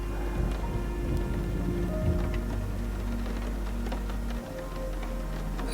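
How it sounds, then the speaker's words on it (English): Steady rain taps against a window with a low thunder rumble underneath, continuous and fairly loud, with scattered light ticks and no voices. "Listen to the thunder and the rain tapping against your window."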